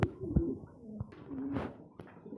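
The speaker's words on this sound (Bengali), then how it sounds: "আসেন আমরা এক এক করে কবুতর দেখা" Pigeons at a pigeon farm coo softly nearby in a few short, throaty bursts, with the breeds on hand including Indonesian and Danish fancy birds.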